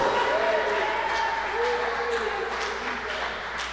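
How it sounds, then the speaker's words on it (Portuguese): A church congregation applauds together, a sustained wash of clapping that holds steady and slowly fades, with a voice speaking over it. "Vamos aplaudir o Senhor Jesus por isso."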